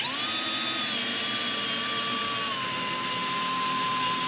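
A hand drill bores into metal lubricated with cutting oil, giving a steady, loud continuous whine with a slowly shifting pitch that holds for the whole stretch with no talking.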